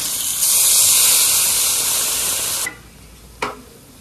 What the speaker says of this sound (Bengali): মশলা কষানো হয়ে গেছে, জল দিয়ে দেবো।